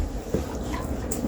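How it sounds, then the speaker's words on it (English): A puppy gives brief yips and a soft whimper close by, short and intermittent over a steady low background. "Oh, the puppy."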